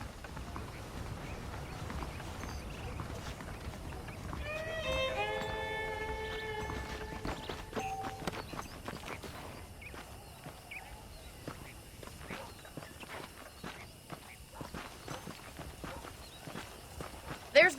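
Horse hooves clip-clop at a walking pace while riding in the video game Red Dead Redemption, a steady rhythmic patter under spoken dialogue and faint background music.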